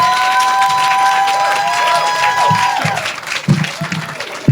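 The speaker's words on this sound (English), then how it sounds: "So please give her a round of applause." Audience applause and cheering at an outdoor groundbreaking ceremony for a schools technical center, a sustained crowd clapping that fades out over a few seconds.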